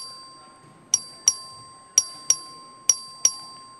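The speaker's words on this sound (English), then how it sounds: "Clerk will ring the bell." A chamber bell in the Texas House rings to call a record vote on an amendment: six bright, clear strikes in three evenly spaced pairs over a quiet room with a faint steady tone.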